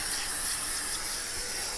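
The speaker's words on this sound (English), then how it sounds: "It doesn't like to spray once you get down here to the bottom of the can" GUNK foamy engine cleaner hisses from a nearly empty aerosol can, a short, steady, sputtering spray that sounds close and moderately loud, heard alone.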